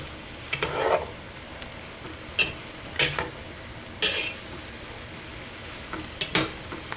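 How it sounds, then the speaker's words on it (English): Vegetables for a soup sauteing in a pan, with a soft, constant sizzle broken by several sharp, separate scrapes and clinks of a utensil against the pan, close by, and no voices. "And let that saute a minute."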